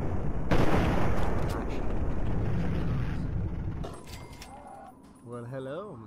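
Gunfire in the video game Fallout 3, a dense sustained rumble of shots and blasts mixed with game sound, loud and continuous before fading, then a tonal game effect near the end.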